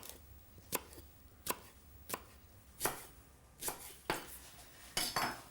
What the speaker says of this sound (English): And spring onion as finely sliced as you can muster